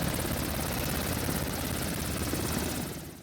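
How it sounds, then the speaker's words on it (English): A Navy helicopter's rotor roars continuously and very close from inside the aircraft at sea off Norfolk, Virginia, a dense, unbroken thrumming wash with no voices. "is used to the loud propellers and commotion that comes with being in a helicopter"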